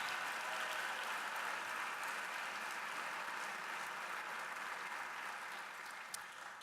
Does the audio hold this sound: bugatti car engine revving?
no